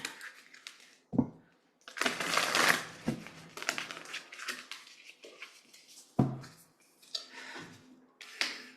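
Tarot cards shuffled and drawn by hand during a reading, a run of close, crisp papery riffles and slaps with sharp card snaps at intervals, alone without talk.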